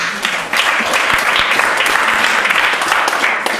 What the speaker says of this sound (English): Very well, you can clap for him.